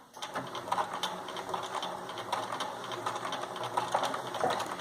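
A sewing machine stitches the side seams of a fabric drawstring bag, running forward a few stitches and then backstitching in reverse, a steady close mechanical whirring with rhythmic needle ticks and no talk.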